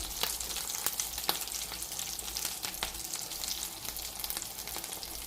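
Jowar, oats and potato nuggets fry in a little oil over a low flame, a soft steady sizzle with scattered sharp crackles and pops, close and quiet with no voices.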